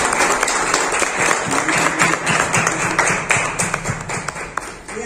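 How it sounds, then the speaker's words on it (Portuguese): An audience breaks into applause, a dense, steady patter of many hands clapping together, sustained for several seconds at fairly close range. "vamos aplaudir"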